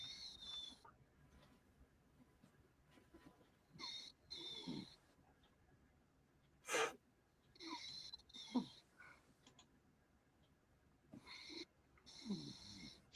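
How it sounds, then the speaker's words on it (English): Someone snores softly in a slow, regular pattern, each rasping inhale repeating every couple of seconds against a quiet room, with one sharper snort midway. "Someone snoring."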